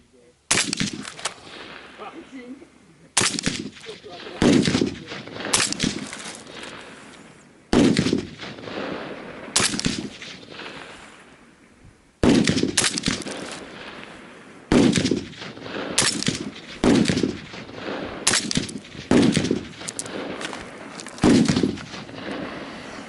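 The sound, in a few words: suppressed gunshots through direct-mounted Inconel and stainless suppressors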